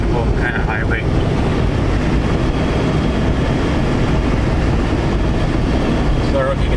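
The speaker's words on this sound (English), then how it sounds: "driving on a fairly typical kind of highway" A 4th-generation Ram 2500/3500 truck cruising on a highway, heard from inside the cab as a loud, steady low road and engine rumble with wind noise and no break.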